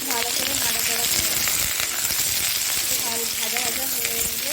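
Vegetables including kohlrabi, potatoes and beans fry in a pan of hot oil with a steady loud sizzle. Repeated scrapes and clinks of a spatula stirring them run throughout.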